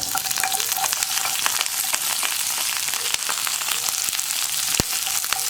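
Chopped onions and curry leaves fry in a pan for tomato curry, producing a dense, loud, unbroken sizzle with faint stirring ticks and one sharp click near the end.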